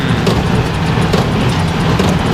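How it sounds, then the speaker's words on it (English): An IH 1086 tractor pulls an NH 565 baler through a hay field, its engine droning loud and close in a steady, continuous roar with a faint rhythmic knock from the baler working. "Yep, 1086 is going at it."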